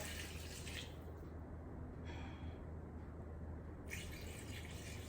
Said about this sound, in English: And then I'm just going to add water to it.